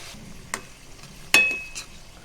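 Chicken frying in a pan as ginger, garlic and onion paste goes in, a soft sizzle with a couple of sharp clacks from a spoon or utensil against the pan, close, with no voices.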